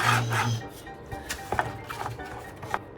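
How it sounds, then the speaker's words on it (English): Screws driven directly into cardboard to fix plastic spacers, giving a close, dry rubbing and scraping with a few short creaks and squeaks over about three seconds, no voices. "we just screwed them directly into the cardboard"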